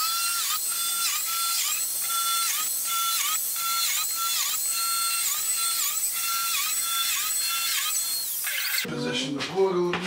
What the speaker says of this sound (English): So I'm going to go ahead and biscuit this side